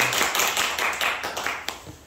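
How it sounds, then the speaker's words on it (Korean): Audience at a school elective-subject information session applauds in a dense burst of many hands clapping at once, close and fairly loud, with no talk over it. "박수!"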